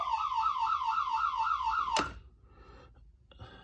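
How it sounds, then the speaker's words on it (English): A boat's high-water bilge alarm, triggered by a float switch, sounds a loud, steady warbling electronic tone for about two seconds and then cuts off sharply, leaving quiet background noise with a faint click near the end. "a float switch that's a sensor for a bilge alarm, high water bilge alarm"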